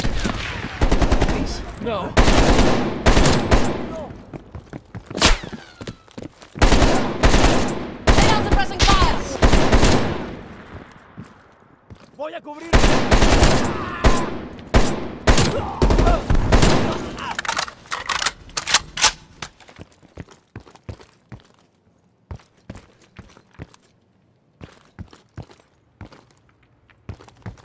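Heavy gunfire in the Call of Duty: Black Ops Cold War mission End of the Line, with dense bursts of automatic fire and single shots crackling in loud clusters and then thinning out, while a voice pleads briefly.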